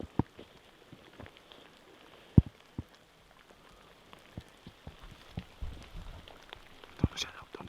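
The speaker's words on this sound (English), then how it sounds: "We just got done coming through a rain shower. Still raining, kinda." Light rain after a shower during a Colorado elk hunt, scattered drops tapping irregularly on a nearby surface over a quiet, faint background, with a few sharper ticks.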